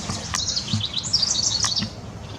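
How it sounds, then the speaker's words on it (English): A bird sings nearby, a quick run of bright chirps and trilling notes, fairly clear over a soft background. "Where's that bird singing so good?"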